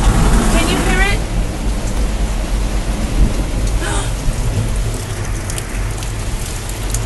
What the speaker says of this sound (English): Oh my gosh, it's thundering. Can you hear it?